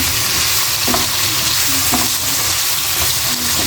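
Carrot and papaya pieces frying loudly in a pan with salt, turmeric and chili powder, a dense constant sizzle with occasional spatula scrapes and clicks, close and alone.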